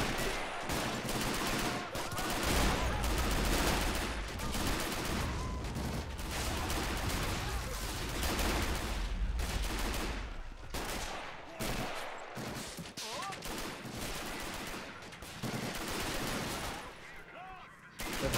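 Sustained machine gun fire from a rear-mounted MG in a Normandy 1944 war video game, loud, dense and continuous with heavy battle noise, bursts breaking off near the end.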